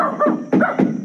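A dog barks a few times in quick succession, close and loud, with short yappy bursts in a brief span.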